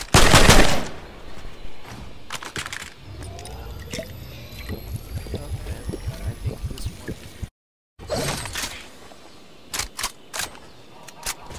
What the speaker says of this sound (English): A primal rifle.